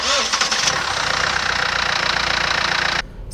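SsangYong Korando 2015 with a 2.2-litre diesel engine running, a steady close rumbling drone that cuts off abruptly near the end.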